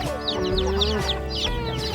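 Chickens cluck near a mountain campsite at Phu Thap Boek, with their calls continuing steadily over a low background hum and a few high chirps.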